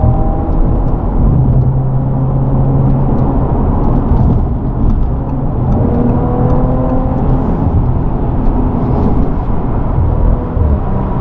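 A 2018 Audi RS4 is driven on the road. Its engine drones loudly and steadily from inside the cabin, with shifting whirring tones; any exhaust pops are not clearly distinct.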